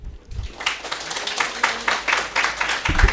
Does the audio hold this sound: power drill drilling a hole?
no